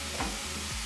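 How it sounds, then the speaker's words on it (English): Vegetables, including frozen mixed veg and diced carrot, sizzle and crackle steadily as they stir-fry in a hot pan for fried rice, with the scrape of a utensil stirring and tossing them. "So you're going to stir fry this for a few minutes."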